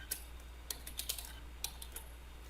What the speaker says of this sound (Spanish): Con la tecla Tab en mi teclado,